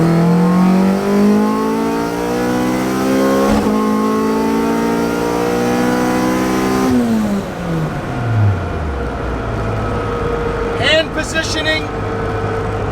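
A car engine revs hard through power shifts, the pitch climbing steadily then dropping sharply as each gear is snapped in with the throttle held down, loud and close with a rising roar after each change.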